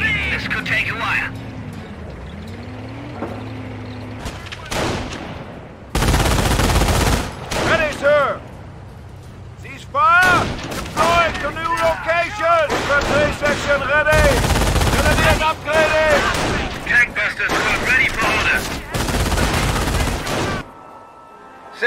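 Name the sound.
small arms fire in the video game Company of Heroes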